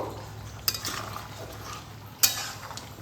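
Peanut paste is stirred into a drumstick curry in a metal pan: a steady wet mixing sound with two sharp utensil clinks against the pan, close by and without speech.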